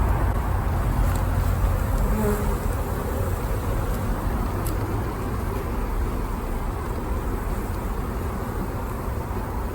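Honey bees in an opened beehive during an inspection for varroa mites make a steady, dense buzzing drone that holds at an even level throughout, close by.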